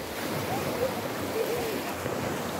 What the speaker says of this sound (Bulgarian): Намираме се на плаж Траката.